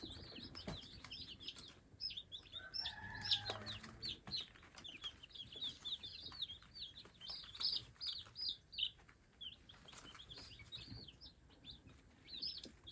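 Chicks in a brooder peep and cheep in a constant high chorus, close and busy, with soft pecking and rustling at the feed underneath.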